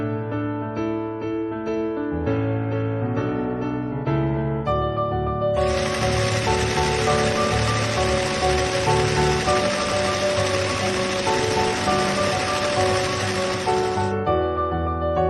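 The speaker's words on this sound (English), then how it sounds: "Sew along the folded edges to secure the folds in place." A sewing machine stitches along the folded fabric edges of a scrunchie, giving a steady, close mechanical whir for about eight seconds. Background music plays before and after the run.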